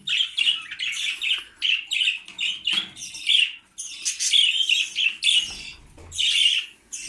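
Budgerigars in a nest, a parent feeding a pair of chicks about a week old, give rapid, close, high chattering squawks and chirps in repeated bursts with short pauses between them, with no talking.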